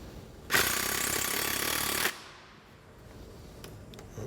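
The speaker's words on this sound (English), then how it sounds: "If we are to use an impact driver to set the anchor, use it to travel the anchor the majority of the way down" An impact driver rattles a screw anchor into place in one loud, dense burst of about a second and a half, then cuts out, leaving quiet room tone.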